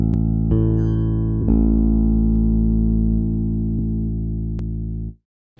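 A single chord is played back by the OnSong app. It holds steady and bright with a couple of re-struck attacks, then decays and cuts off after about five seconds, with no voices.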